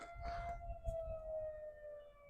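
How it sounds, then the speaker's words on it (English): A steady outdoor civil defense siren sounding around noon, holding one sustained wailing tone for a few seconds over a low background rumble, alone with no talking. "Sirens."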